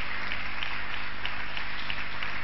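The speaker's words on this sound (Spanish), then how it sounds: "fuerte aplauso" A church congregation applauds during a worship service, a dense, continuous wash of clapping that stays loud and even throughout with no voices rising above it.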